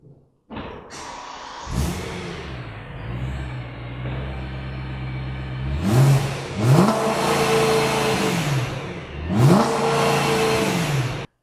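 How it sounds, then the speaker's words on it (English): A 2013 BMW M3 engine starts with a thump, idles roughly, then revs sharply several times, each surge loud and close, rising and falling. "You can hear it from the outside on the revs"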